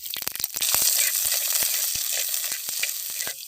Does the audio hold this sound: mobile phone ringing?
no